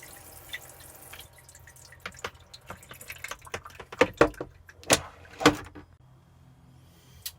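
Water sprays and drips from the shower head in a motorhome shower, with scattered splashes and clicks and a few louder spattering bursts partway through before it trails off.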